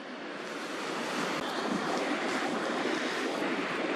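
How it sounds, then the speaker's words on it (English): A tidal bore sends the tide surging in to fill a bay, a steady broadband rush of moving water, loud and continuous, with wind buffeting the microphone throughout. "you're actually watching the tide surging in, rushing in, filling up this bay."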